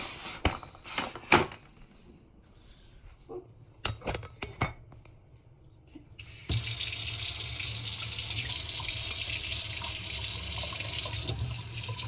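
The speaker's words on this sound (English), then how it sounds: "So let's go over to the sink and wash these vegetables." Kale and other vegetables for chicken soup are washed at a kitchen sink, with a few dish and cutlery clinks first, then the tap turns on and water gushes loudly and steadily for the remaining seconds.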